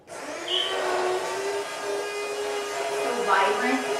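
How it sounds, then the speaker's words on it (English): An immersion blender whips a red pepper cream sauce with a steady close whirring motor drone that holds for several seconds, its pitch dipping and shifting near the end. "the whipping of the immersion blender is actually whipping the cream a little bit, which is making this really thick and frothy"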